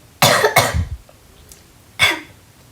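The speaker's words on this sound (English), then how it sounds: "I'm coughing and my voice is a little quiet." Three sharp, close coughs: two in quick succession, then a short pause and a single final cough.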